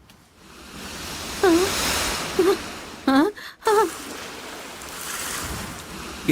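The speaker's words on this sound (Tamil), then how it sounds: "இந்த கடல் அலைகளோட சத்தம் நல்லா கேக்குதா ஸ்வீட்டி?" Sea waves washing onto the shore make a soft, continuous wash in the background while people speak briefly over it.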